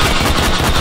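A rapid burst of automatic gunfire from an MP5-style rifle chambered in 7.62x51mm in the VR shooting game H3VR, loud, close and continuous for under a second with tightly spaced shots.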